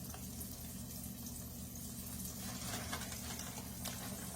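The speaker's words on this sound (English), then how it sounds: "Let me rinse my hands." Water runs steadily from a kitchen tap while hands are rinsed, a faint continuous splashing hiss with no talking.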